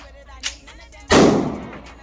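An AR-15 rifle fired once at an outdoor gun range, a single loud close blast with a rumbling decay, preceded by a small click and faint handling noise.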